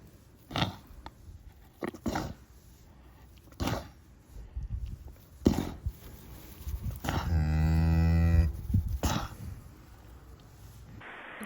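Cattle on a farm where cows have just calved, with a long, loud moo from a nearby cow midway, set among intermittent knocks and rustling thumps in a quiet barn.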